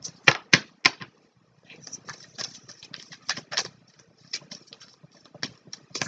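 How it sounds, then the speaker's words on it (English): A deck of tarot cards is shuffled by hand, giving quick crisp riffling bursts and soft patters in uneven clusters, close and fairly quiet, with no talking. "Shuffle till I feel it."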